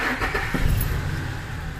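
A 1999 Ford F-150 pickup's V6 engine cranks and catches close by, then settles into a steady, low idle rumble for the rest of the moment.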